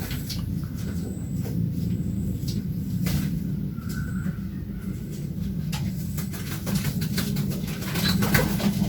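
Racing pigeons coo in a loft, a steady low murmur of several birds with occasional wing flutters and clicks, fairly close and continuous.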